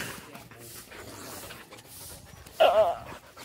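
Belgian Malinois dogs pant softly close by, with a louder burst of whimpering and movement near the end, while someone speaks in the background.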